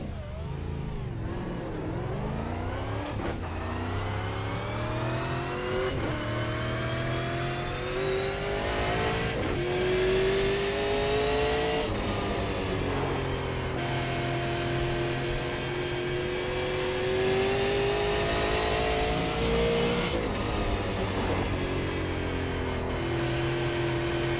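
A Super Late Model race car laps Five Flags in iRacing, its engine a loud, steady roar that climbs in pitch down each straight and dips into corners, cycling continuously with no voices.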